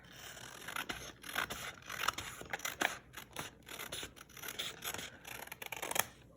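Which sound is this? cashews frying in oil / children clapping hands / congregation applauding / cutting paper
cutting paper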